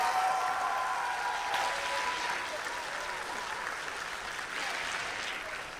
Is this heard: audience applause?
yes